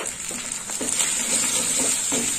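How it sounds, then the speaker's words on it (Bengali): Turmeric powder sizzles in a pan with a wet spice mix for a prawn and vegetable dish, a steady crackle broken by several soft scraping stirs, with no voices. "হলুদটা একটু ভাজা হোক।"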